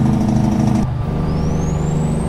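Engine braking from a truck's Jake brake in the American Truck Simulator game, a loud low rumbling knock that cuts off abruptly, followed by a quieter engine hum with a rising whine.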